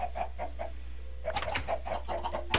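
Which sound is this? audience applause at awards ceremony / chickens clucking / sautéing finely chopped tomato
chickens clucking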